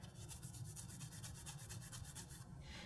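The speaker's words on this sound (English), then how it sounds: "I also like to clean the frame off with a bit of Scotch-Brite here" A Scotch-Brite pad scrubs the frame and foot peg bracket of a Kawasaki KX450 dirt bike, a steady, close abrasive rubbing in quick repeated strokes that continues without pause throughout.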